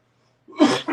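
A single harsh cough bursts out after a moment of silence, followed by a shorter second cough, close and loud.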